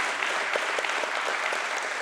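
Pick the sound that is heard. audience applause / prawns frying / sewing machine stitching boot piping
audience applause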